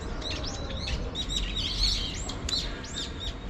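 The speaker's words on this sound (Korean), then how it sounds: "지금 음, 새들이 많이 화가 나 있어요." Many small birds chirp and tweet in busy, overlapping bursts outdoors beside a residential area with nearby construction, loud and continuous against a low rumbling background.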